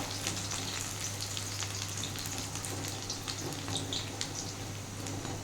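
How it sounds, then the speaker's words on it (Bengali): Soybean fritters (bora) fry in hot oil and are turned over in the pan, giving a continuous close sizzle and crackle over a low steady hum, with no talking. "আমার বড়াগুলো এক পিঠ ভাজা হয়ে গেছে আমি এক পিঠ উল্টে দিচ্ছি"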